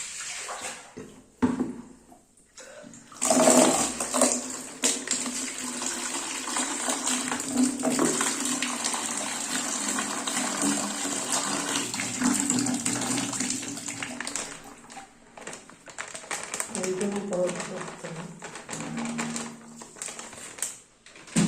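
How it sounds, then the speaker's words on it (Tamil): Water wrung from a newly bought saree is poured out onto the ground, a splashing gush with some trickling and patter, broken by short pauses and spells of quieter dripping. "கசக்கிட்டு இந்த தண்ணி நம்ம கீழே ஊற்றிக்கலாம்."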